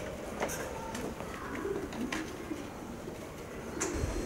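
Home-bred racing pigeons coo in a loft, giving soft, repeated low coos at a moderate distance over a steady ambient hiss, with occasional sharper flutters or clicks.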